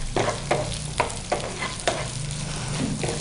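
Moong dal sizzles in hot tempering oil as it is stirred, with a steady frying hiss broken by regular, close scraping strokes about every half second.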